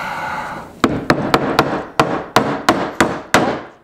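A hammer drives a nail into a wooden deck flower planter with about ten sharp, evenly spaced strikes, close and loud, with no talking.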